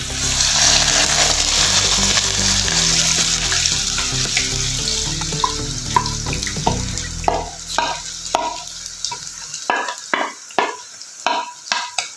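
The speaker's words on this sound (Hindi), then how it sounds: "अब मैं डालने लगी हूँ इसमें सूजी जो मैंने गीली की हुई थी" Wet semolina dropped into sugar syrup cooking in a pan, a loud rushing sizzle that fades while sharp stirring scrapes and clatters grow more distinct and rhythmic.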